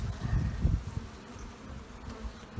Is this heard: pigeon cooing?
no